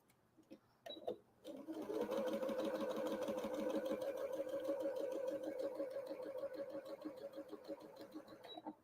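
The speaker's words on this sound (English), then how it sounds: "I'm just sewing up those little scraps." A sewing machine stitches small fabric scraps while piecing a quilt block. A couple of light clicks come first, then a steady, close mechanical whir runs without a break for about seven seconds.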